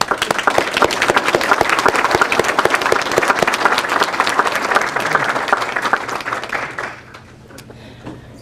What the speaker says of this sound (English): How about a big round of applause for our recipients.